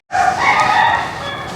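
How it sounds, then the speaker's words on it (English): A rooster crows once, loud and close, a single sustained call at a Portuguese cemetery with no talking over it. "One is a rooster called Pavarotti because of his beautiful voice."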